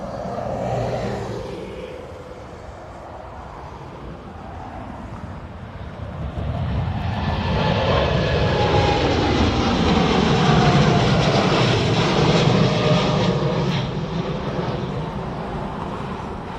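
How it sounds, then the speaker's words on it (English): A jet airliner at Dublin Airport spools up, its engine roar rising from a faint whine to a loud, broad, sustained rumble, with no voices over it. "and a plane."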